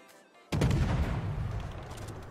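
A German Tier IX destroyer, the Z-46, fires armor-piercing shells in the naval combat game World of Warships: a single loud, sudden deep boom after a quiet moment, then a long rumbling tail with no voices.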